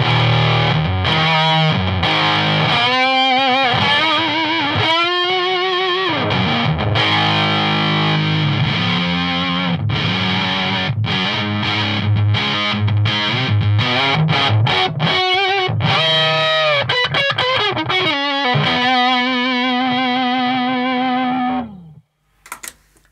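Electric guitar played through a Big Muff drive pedal, a thick sustained distorted tone with strummed chords and held notes, loud and continuous for over twenty seconds before cutting out near the end, with no talking.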